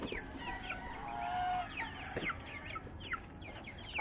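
Hungry farm chickens clucking before feeding, with scattered short calls and squawks over a quiet backdrop, some calls overlapping in quick bursts.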